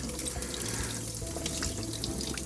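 Cured salmon fillet rinsed and rubbed under a running kitchen tap, a steady close splashing stream of water into a sink that continues without pause.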